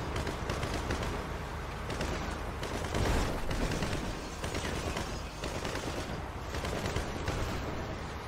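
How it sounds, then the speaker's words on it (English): Heavy video game gunfire from the GTA Doomsday Heist finale, a dense continuous barrage of rapid shots and booming blasts rolling without pause, loud and close. "I was just watching the gunfire"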